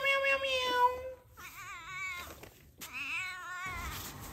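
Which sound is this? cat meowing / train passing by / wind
cat meowing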